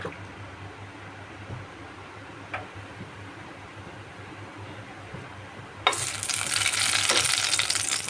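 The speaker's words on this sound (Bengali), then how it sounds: "এবার এর মধ্যে আমি নুন হলুদ মাখিয়ে রাখা মাছের কাটাগুলো বেজে নিচ্ছি" Fish bones coated in salt and turmeric hit hot mustard oil in a wok on a gas stove, setting off a sudden loud, steady sizzle after a few seconds of quiet background hum.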